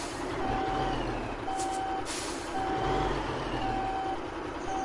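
Truck reversing in the video game Alaskan Road Truckers, with steady repeating reverse beeps over a loud continuous diesel engine rumble and a brief hiss of air brakes.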